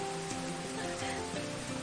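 Steady rain pours down on a hut in the open, a dense, even hiss with no break.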